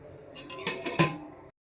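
A metal lid settles onto a cooking pot with a short run of clinks and rattles, a few quick metallic knocks building to a brighter clank before it falls quiet.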